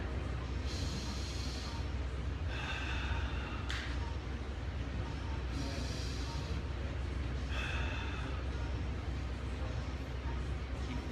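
Slow, deep breathing during an upper-body mobility drill, with several drawn-out airy inhales and exhales repeating at an unhurried pace over steady background noise.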